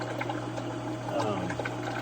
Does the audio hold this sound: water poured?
yes